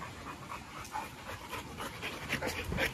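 A dog pants rapidly during rough play and bite work, quick breathy huffs up close with small whines and scuffling mixed in.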